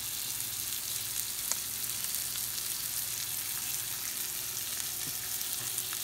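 Bear steaks sizzle and fry in butter in a pan, a steady close crackle with occasional small pops and no talking.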